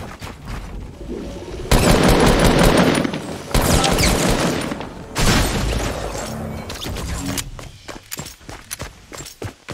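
Heavy gunfire in the video game Fortnite: loud automatic bursts and blasts crowd together, then thin out into scattered separate shots toward the end.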